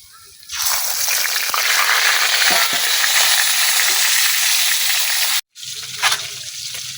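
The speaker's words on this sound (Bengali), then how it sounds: "এখন মাছের মাথাটা ভাজা নিয়াম।" A silver carp fish head drops into hot oil and a loud, close hiss of frying swells up at once and holds steady, cuts out briefly, then resumes more quietly with a soft clatter.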